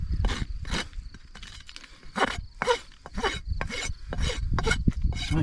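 A farrier's rasp files a horse's hoof as a trim is finished, with repeated rough back-and-forth strokes in a steady rhythm, close and fairly loud, and no talking.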